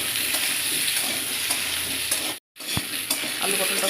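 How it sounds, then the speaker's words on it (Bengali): Chopped potato and pointed gourd frying in hot oil in a kadai, a loud, steady sizzle with a short cut in the middle and a clink as it resumes. "ওই তেলেই কুচিয়ে রাখা আলু পটল তুলে ভেজে নেব।"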